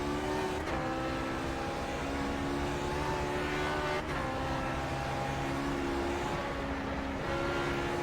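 A race car engine in the iRacing sim at Mosport, droning steadily close up as it accelerates and climbs through the gears, with brief shift breaks and no voices.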